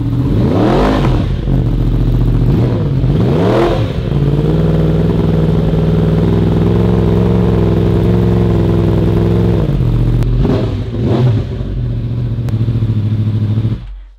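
A loud motorcycle engine revs sharply several times, rising and falling, then holds a steady throaty idle before revving again and cutting off.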